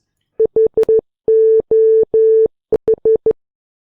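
Morse code beeps as a clean single-pitch tone, sounding as a group of short dots, three long dashes and a final run of dots, loud and alone with silent gaps between them.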